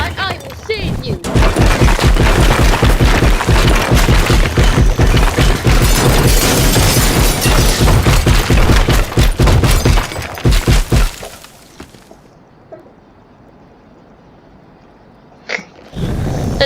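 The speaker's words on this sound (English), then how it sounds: "Oh right, gas stations blow up." A gas station blows up in the video game Teardown, a long loud roar of blasts and shattering debris that rumbles for about ten seconds before dropping to quiet, then a short burst returns at the end.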